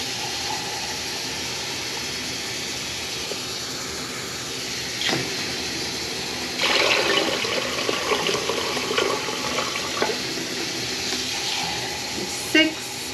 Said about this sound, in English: Now this pressure canner uses roughly 8 cups of water to pressure can.